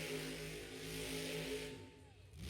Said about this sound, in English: I do love the sound of the truck